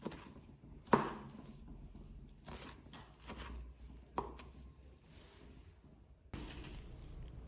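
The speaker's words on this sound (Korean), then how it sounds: "껍질을 벗긴 토마토는 먹기 적당한 크기로 썰어주세요" Knife cutting peeled tomatoes into bite-sized pieces on a board, a few sparse, quiet cuts with one sharper tap near the start and another midway, against a faint, quiet background.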